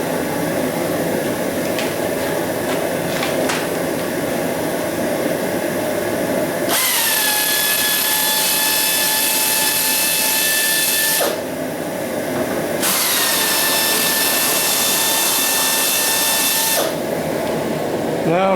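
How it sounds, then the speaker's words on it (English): An air ratchet fitted with a T25 Torx bit runs in two loud, steady whirring bursts with a brief pause between them, backing out cowl screws on a 2001 Chrysler 300M. Quieter handling noises come before the tool starts. "I'm using it on an air ratchet to save my wrist"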